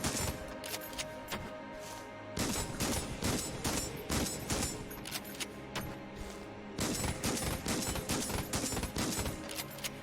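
Dense video-game gunfire from Enter the Gungeon crackles in rapid, overlapping bursts, loud and close. It pauses briefly around a couple of seconds in, then continues in sustained volleys.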